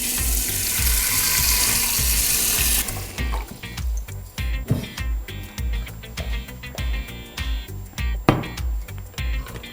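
Water runs from a kitchen tap into a cooking pot for pasta, a loud hissing stream for about three seconds that stops, followed by clinks, knocks and handling sounds of the pot.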